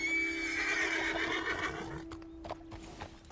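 In the video game Red Dead Redemption 2, a horse gives a loud, wavering whinny that fades out. A few hoof clops and faint movement sounds follow.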